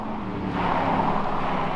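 A Porsche Cayenne Coupe SUV with active anti-roll bars cornering hard, giving a steady engine and road roar heard from inside or nearby, moderately loud with no talk.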